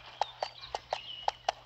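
Horse hooves clip-clop in the video game Ultimate Horse Simulator 2, six crisp, evenly spaced hoof strikes in a steady walking rhythm over faint snowy ambience.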